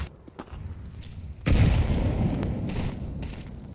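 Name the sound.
grenade explosion in Counter-Strike video game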